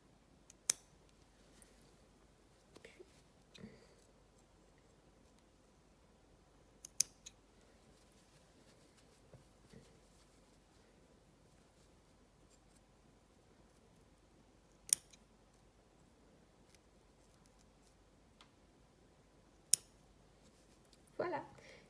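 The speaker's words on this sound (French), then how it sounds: "Coupe les petites lignes horizontales comme ça." Scissors snip through the strands of a knitted steek, giving faint, sharp cuts spaced several seconds apart over a quiet background, with a small cluster of snips at the end.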